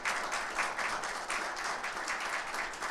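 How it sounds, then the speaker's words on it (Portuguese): Applause fills a meeting hall as the audience welcomes candidate Luis Pitiman to the tribune at a FENASP hearing, a dense, even wash of clapping heard from a distance with pulsing swells and no talk over it. "Gostaria que todos pudessem estar recebendo o Pittman com a salva de palmas."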